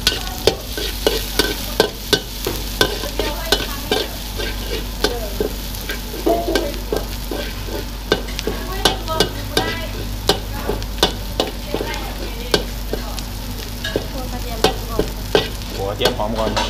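Garlic stir-fries in hot oil in a pan for a Lao fried rice and crispy pork dish, a continuous close sizzle punctuated by regular scraping and clanking strokes of a spatula against the pan, with no talking.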